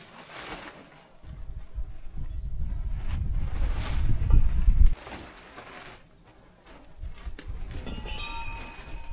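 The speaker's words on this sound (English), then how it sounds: "too windy. Too windy" Gusts of strong wind roar and buffet nearby, swelling loudly for a few seconds, then easing off before rising again.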